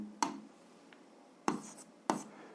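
Marker or chalk strokes on a board during an algebra lesson: three short, sharp taps and scrapes spaced about a second apart, close and fairly quiet, with no talking.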